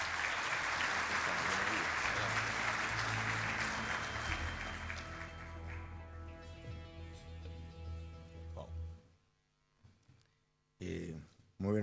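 Audience applause for a speaker, the undersecretary of finance, at a national agriculture conference: loud sustained clapping that gradually thins out and fades, followed by a brief spoken introduction.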